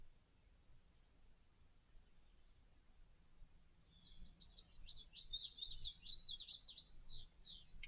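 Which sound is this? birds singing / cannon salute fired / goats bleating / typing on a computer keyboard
birds singing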